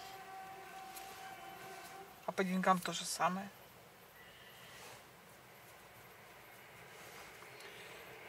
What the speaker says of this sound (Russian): Поезд. Электричка, что ли?